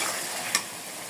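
Red lentils tipped into a pan of well-fried spice paste and tomato, giving a steady broadband sizzle with a brief bump as they land and get stirred in.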